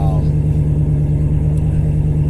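A Dodge Hellcat's engine idles steadily just after push-button start, a loud, deep, even rumble filling the whole stretch with no pauses.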